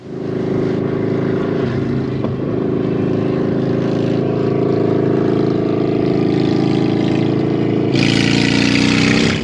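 A custom motorcycle rides past during a film shoot, its engine droning loudly and steadily throughout, with a brighter, harsher surge near the end as it passes close.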